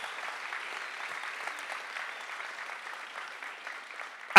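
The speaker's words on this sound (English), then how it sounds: "great applause for Achim" An audience at a science slam applauds a volunteer named Achim: a steady wash of many hands clapping at moderate distance for about four seconds, ending on a sudden loud close bump.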